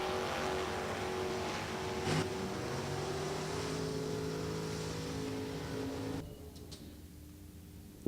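A first-generation Chevrolet Camaro at a drag strip makes a steady, loud engine drone with sustained harmonic tones, cutting off abruptly near the end to leave quieter background noise.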